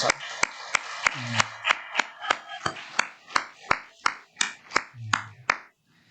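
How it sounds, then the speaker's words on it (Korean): A church congregation at a Korean Methodist Sunday morning service gives a short round of welcome applause: a steady run of sharp, evenly spaced hand claps, fairly close and moderately loud, with brief voice sounds in between, ending abruptly. "먼저 우리 환영의 박수 한번 할까요?"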